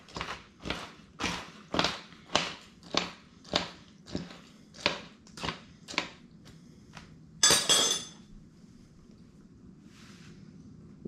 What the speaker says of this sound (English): Take my spoon, break all that apart.